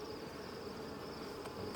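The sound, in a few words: honey bees buzzing around a hive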